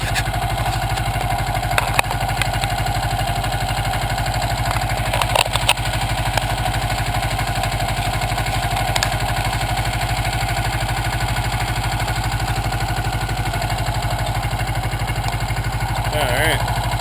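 1984 Yamaha Maxim 400 motorcycle running, a steady mid-pitched engine drone with even firing pulses and occasional clatter and clicks, close and continuous throughout.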